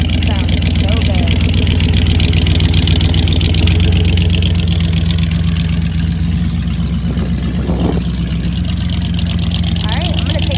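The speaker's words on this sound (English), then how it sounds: "Sure to turn some heads driving down the road in this thing. Sounds so good." A 1946 Chevrolet Coupe engine runs steadily with a deep, even rumble, loud and close throughout, holding a constant idle-like tone.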